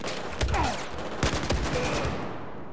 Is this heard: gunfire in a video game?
yes